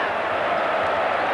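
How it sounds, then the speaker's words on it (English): A Washington Husky college football crowd roaring in the stadium during a 1983 game against Michigan, a steady, dense wash of cheering. "See the Husky crowd now with 20 seconds to go"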